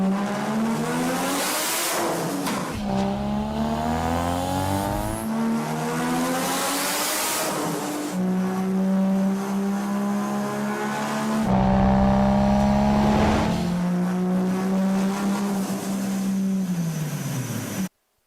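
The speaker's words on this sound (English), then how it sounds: "Here is another T04Z R34 GTR on a dyno." A Nissan R34 Skyline GT-R with an HKS T04Z turbo roars on a dyno, its engine climbing through repeated long revving pulls with sharp drops between them, loud and close with no talk.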